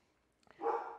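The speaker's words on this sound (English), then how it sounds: "that's my dog barking" A dog gives a single short bark or yelp indoors, after a couple of faint taps, fairly close and moderately loud, with no talking over it.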